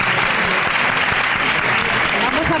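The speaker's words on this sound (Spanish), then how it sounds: "Un fuerte aplauso." Loud, close applause from a young audience after a cancer research round table, dense continuous clapping with voices mixed in.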